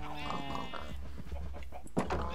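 Cows in Minecraft give low, drawn-out moos, a couple of close calls in quick succession followed by a shorter grunt, with no talking.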